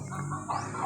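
Chickens cluck close by outdoors in a brief, continuous burst of throaty calls with no talk over them.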